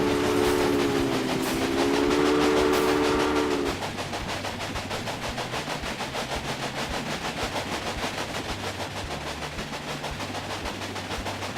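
A video-game steam train rolls steadily along its route with a continuous rhythmic clickety-clack, loud and close. A brief whistle-like tone sounds in the first few seconds and then fades, leaving the steady rattling.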